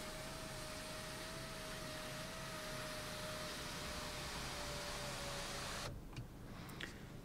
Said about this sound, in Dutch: kun je die eventueel afsluiten met een elektrisch bediend zonnescherm